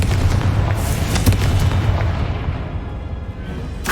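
Booming blasts from the Confringo fire spell in Hogwarts Legacy, a few deep thuds and rumbling explosions over a low continuous roar, fairly loud.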